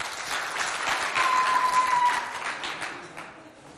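Audience applause at a school competition result ceremony in Moundou, greeting the jury members as they come forward; steady clapping swells to a peak mid-way and then tapers off, with no talking.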